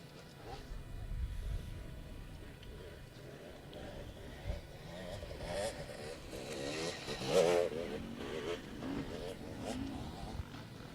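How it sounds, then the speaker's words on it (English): Off-road race motorcycle climbing a quarry hill during a Pro Class extreme enduro, its engine revving and straining at mid distance under continuous commentary. "Here he comes, Johnny Walker, 22, looking super smooth. A massive lead on the two Husqvarna riders"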